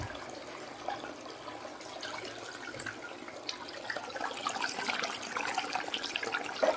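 Water poured over dry ice at home churns into a steady, fizzing bubble and hiss, rising slightly in intensity toward the end, close and continuous with no voices.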